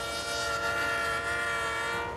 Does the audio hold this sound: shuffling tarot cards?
no